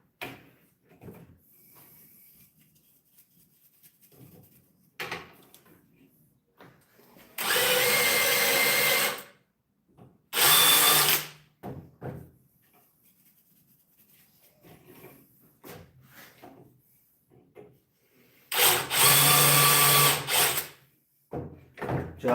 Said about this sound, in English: I'm just going a little bit faster on the drill so I can just try to get the little shavings off